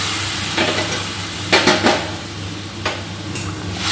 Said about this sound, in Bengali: এর মধ্যে এবার অ্যাড করব গরম জল।